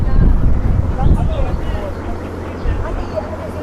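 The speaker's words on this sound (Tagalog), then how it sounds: "Sarap ng hangin." Wind buffets a boat on the water, a rough, gusty rumble against the microphone, with people talking nearby over the steady engine-like drone.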